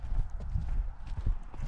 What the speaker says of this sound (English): Ah, the goats went in.